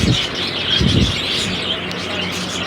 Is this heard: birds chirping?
yes